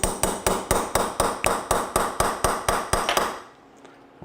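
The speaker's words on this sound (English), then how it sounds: "With our 3-ounce ball peen." A 3-ounce ball peen hammer taps a roll pin into an AR-15 rifle chambered in 7.62x39mm, about a dozen evenly spaced sharp metallic strikes, close and loud, stopping abruptly.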